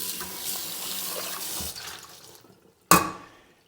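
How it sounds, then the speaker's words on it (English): Black beans are rinsed under a running kitchen tap in a sink: a steady hiss of water flowing for a couple of seconds, a brief pause, then a sharp splashing gush that trails off. "you're going to wash until the foam stops coming out of the beans"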